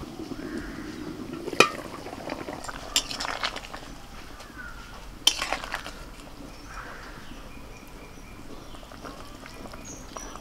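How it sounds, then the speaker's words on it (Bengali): Knife cutting an egg omelette into portions in a home kitchen: a few sharp, isolated clicks of metal against the pan over a low, steady background hiss. "এবার ডিমের অমলেটটাকে আমি একটু কেটে নেব"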